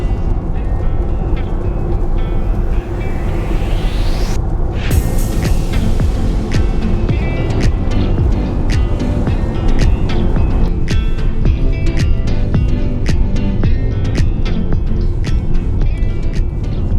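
A Toyota Proace Electric van drives through village roads at low speed, a steady road rumble and tyre noise inside the cabin with faint clicks and hum and no talking.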